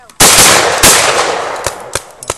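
A Browning semi-automatic 12 gauge shotgun fires a double: two loud, close blasts about half a second apart, each followed by a fading ringing tail and a few soft clicks.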